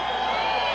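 A New York sports crowd at a super lightweight boxing title fight cheers in a dense, steady roar, loud and continuous throughout with no single voice standing out.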